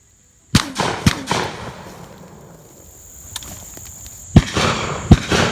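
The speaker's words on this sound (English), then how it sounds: "I'll wait for him to fly, then shoot him." Shotgun blasts on a dove hunt, several sharp, loud reports outdoors: two close together near the start, then a quieter stretch before two more shots toward the end.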